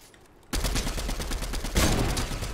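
Dense, continuous rapid gunfire from a Fortnite firefight, starting abruptly and holding loud bursts with a heavier surge near the end, with no talk over it.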